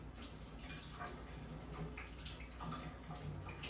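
Tap water runs steadily over a soft zucchini being rinsed at a kitchen sink, a continuous close splashing wash with small irregular splatters as the vegetable is turned under the stream.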